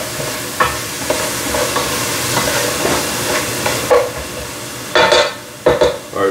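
Onion sizzling and frying in a skillet for beef stew, a close, loud steady crackle broken by several sharp scraping stirs toward the end.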